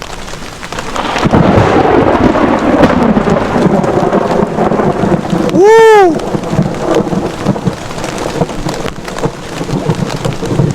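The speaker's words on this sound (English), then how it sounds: "Just raining and thundering and lightning." Steady rain hisses under a rolling thunderstorm, with thunder rumbling loudly near the start; midway a man gives a short, loud whoop over the downpour.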